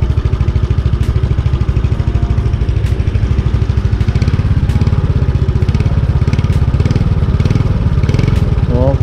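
A Yamaha Nouvo automatic scooter idles steadily close by, its exhaust putting out a constant loud, rapid pulsing throb that never lets up through the whole stretch.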